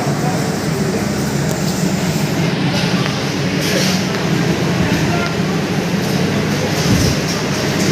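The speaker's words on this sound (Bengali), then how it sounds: "প্ল্যাটফর্মের অপর প্রান্তে আরেকটি ট্রেন দাঁড়িয়ে আছে" Loud, steady rumble of a train at a railway station platform with a metallic hiss and faint clatter, continuous throughout, with voices blending into the station noise.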